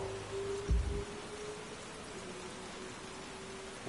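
Steady rain hisses and patters in an open world video game, a soft, even wash of noise with no talking.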